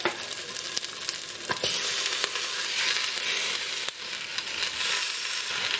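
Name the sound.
mackerel placed into pan over browned shallots, sizzling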